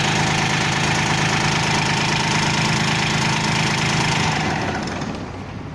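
A Mitsubishi MT15 mini tractor's diesel engine idles steadily and loudly close by, a continuous rumbling drone with a knocking edge that eases off slightly near the end.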